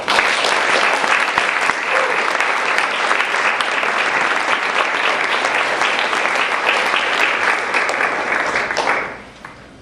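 A full audience gives a loud, sustained round of applause for the speakers at a student divestment launch event, dense clapping throughout that fades out in the final second.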